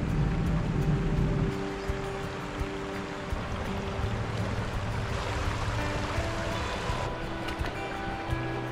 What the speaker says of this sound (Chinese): 这边的溪流还蛮浅的，